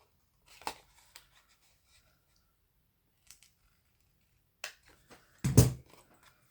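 Paper is cut around a tab with scissors in a few short, sparse snips separated by quiet pauses, close and crisp, ending with one louder cut.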